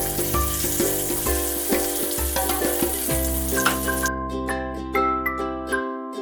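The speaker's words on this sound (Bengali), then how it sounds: "কড়াইয়ে তেল গরম হলে বেগুনগুলোকে একে একে ছেড়ে দিলাম।" Eggplant slices drop one by one into hot oil in a wok and fry with a continuous crackling sizzle, running under loud sustained background music throughout.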